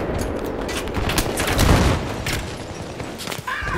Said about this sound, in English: I'm shooting at the tank